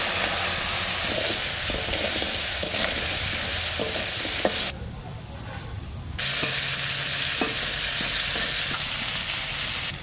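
Red paddy-field crabs fry in mustard oil, a loud, dense sizzle with stirring knocks that briefly falls much quieter midway before surging back at full strength.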